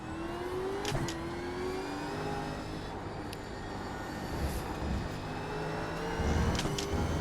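Gen 3 V8 Supercar engine in iRacing at Misano, running steadily loud and close, with the pitch dropping and climbing as the car is held in second gear through a corner, no voices over it.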